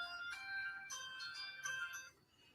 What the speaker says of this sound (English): That was mine. That was my phone.